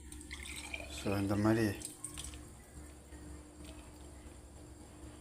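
Blended pumpkin seed drink drips as it is strained, a faint trickle beneath a brief stretch of speech.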